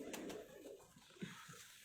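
Pigeons of a breeder's prized pairs in Lahore give soft, low cooing calls, faint and close, in a brief stretch with a couple of rounded coos.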